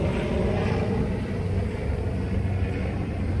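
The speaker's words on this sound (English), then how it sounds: "Helicopter, I should say." A helicopter passing overhead near a beehive during an inspection, heard as a steady, fairly loud low rumble that holds throughout.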